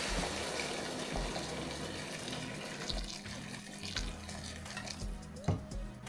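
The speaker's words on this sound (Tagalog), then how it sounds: "Ilunod tayo ng mainit na tubig." Hot water is poured over chopped cauliflower in a cooking pot, a steady close gushing and splashing stream that continues alone throughout.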